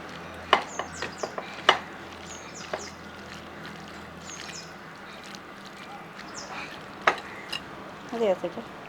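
Squid pieces are worked by hand into a masala gravy with salt, giving close, wet, squelchy mixing noises and scattered sharp clicks in short irregular bursts.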